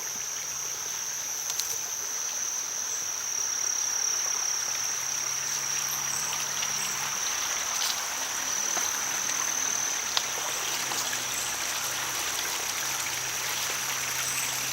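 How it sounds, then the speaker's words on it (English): Water trickles steadily down a small stream channel in a fishroom filter setup, a soft, continuous wash with a thin high whine and faint hum running underneath throughout. "The water comes up through the filter, down through this stream."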